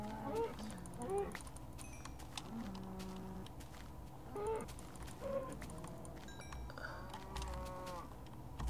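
Cows in the video game Minecraft moo in several short, low calls scattered across the stretch, with clucking chickens and other game sounds mixed in.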